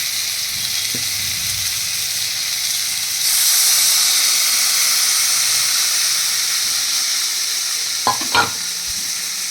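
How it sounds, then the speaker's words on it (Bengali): Water goes into sizzling masala in a pan for a Tangra fish curry, setting off a loud, continuous hiss and frying crackle that swells sharply partway through. Near the end come a few brief clinks of a utensil against the pan. "এবার দেখো মশলাটা থেকে তেল ছেড়ে দিয়েছে, এখন আমি এর মধ্যে জল দিয়ে দিই।"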